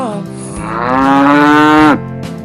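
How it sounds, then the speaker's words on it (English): A calf gives one loud, close moo that rises and holds before cutting off, with no talking. "This is a calf."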